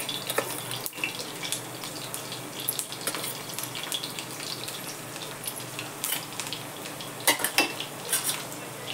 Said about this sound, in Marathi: चला तर आता मी लसूण, जिरं, मोहरी घालते